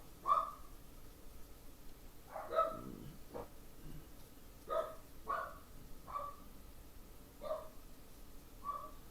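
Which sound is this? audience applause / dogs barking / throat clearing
dogs barking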